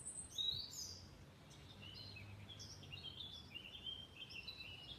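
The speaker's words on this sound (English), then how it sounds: "Listen to those birds. How wonderful." Birds singing in a garden, several faint chirps and short whistled phrases scattered across the moment over a low outdoor hum, distant and quiet.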